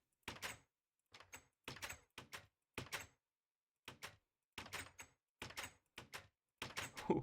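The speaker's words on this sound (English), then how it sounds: "So I was just placing down these doors" Doors being placed in the building game Pre-Evolution, about a dozen separate wooden thunks and knocks landing in irregular succession, each short and crisp, with quiet gaps between.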